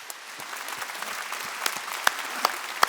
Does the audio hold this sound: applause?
yes